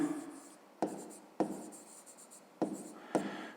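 Handwriting with a pen on paper while working a fifth-grade maths exercise, up close and soft, with five distinct stroke starts each trailing into scratchy writing, and no voices.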